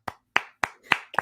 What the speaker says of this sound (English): Golf clap for the new fan.